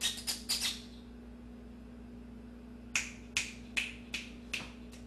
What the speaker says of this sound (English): So they often come when I snap my fingers as well.